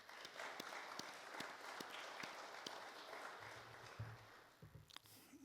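Audience applause at a presentation in a Mennonite church, a fairly soft, steady patter of hand claps with scattered sharper claps, continuing for several seconds without talk.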